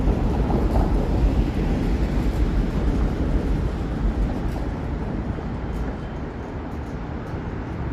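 A subway train hurtles through a tunnel beneath a Toronto street, a steady, dense rumble with broadband roar and some wind buffeting, continuous and fairly loud throughout with no talking.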